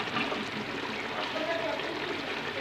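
About 400 grams of cooking oil is poured into palak gosht, producing a steady, continuous liquid trickle and hiss throughout the short moment.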